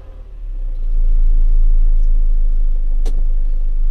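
Diesel engine of a John Deere 6320 tractor, just back from repair, running steadily with a low, constant rumble that swells after the first second and holds, plus one brief sharp click near the end; no talking.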